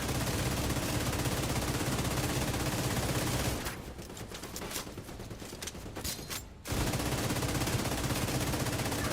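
A light machine gun fires in the video game The Division, a dense, continuous automatic burst that stops for about three seconds midway, leaving quieter clatter, then resumes at full loudness.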